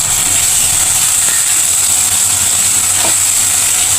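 Spices frying in a pan for Bengali doi posto chicken, a steady broadband sizzle and hiss holding evenly throughout with no voices.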